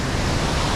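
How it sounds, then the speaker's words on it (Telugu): Gayatri Waterfalls in Telangana from the top, a loud, dense, continuous roar of falling water filling the whole short stretch, with no voices. "ఇది Gayatri water falls top view"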